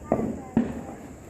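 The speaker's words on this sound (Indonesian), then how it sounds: "Ini sekarang main petasan" Two sharp firecracker bangs about half a second apart, fairly close, at a Diwali celebration, with voices talking faintly in the background.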